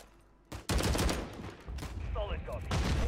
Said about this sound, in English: I'm gonna mortar him.